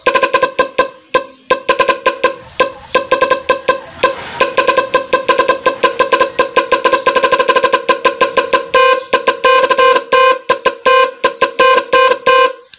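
An aftermarket music car horn plays a rapid, rhythmic melody of bright tonal blasts, loud and close, with repeated short notes running continuously and no voices.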